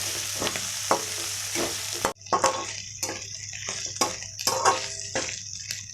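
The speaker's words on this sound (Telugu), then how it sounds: "ఇందులోనే గ్రీన్ చిల్లీ, కర్రీ లీవ్స్ వేసుకుందాం. వన్ మినిట్ ఫ్రై చేసుకోవాలి." Green chillies and curry leaves sizzle in hot oil for a mutton fry, a steady crackling fry broken by sharp stirring clacks, with a louder burst of spitting after about two seconds as the pan is stirred.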